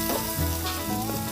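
Masala-coated tilapia fries on a banana leaf in a pan, giving a steady, close sizzle with soft crackles and a faint stirring scrape, with no voices.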